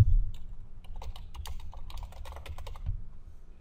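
A steady run of close, light clicks from a computer keyboard as text is typed into an editable layer in After Effects. The keystrokes are quick and even and go on for several seconds with no talking.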